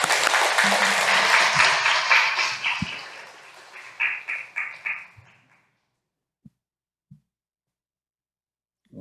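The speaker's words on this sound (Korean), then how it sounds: "박수 보내주시기 바랍니다." A church congregation applauds to welcome a guest lecturer, a dense burst of clapping that thins into scattered claps and fades out midway, leaving near silence broken by a few isolated faint knocks.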